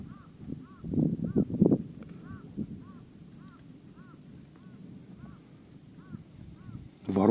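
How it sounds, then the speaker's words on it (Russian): Crows caw over and over in an even, steady rhythm from a distance, with a brief murmur of voices early on. "Вороны еще раскаркались."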